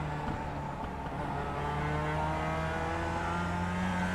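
A Mazda MX-5 Cup car in the iRacing sim racing game at Summit Point Raceway's Jefferson Circuit holds a steady engine drone that rises in pitch as it accelerates out of a turn. The engine runs loud and continuous with no voices.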